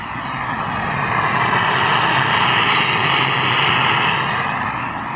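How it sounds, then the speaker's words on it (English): A Jetboil camping stove burns at a wild campsite in the Brecon Beacons, a steady, close roaring hiss that holds constant for several seconds with no talking. "As you can probably hear, the jet boil's on the go."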